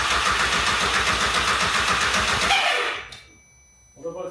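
An Audi/VW 1.8T engine fitted with a new homemade exhaust that likely leaks runs with a loud, rough, pulsing idle, then cuts out abruptly, leaving near silence before faint handling noises.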